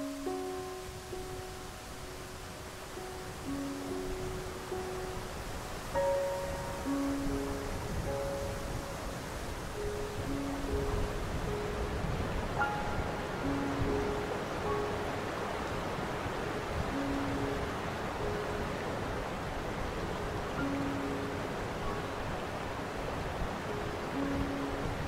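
Steady waterfall ambience in a guided meditation, a continuous broadband rush of falling water with soft sustained tones drifting over it and no voices.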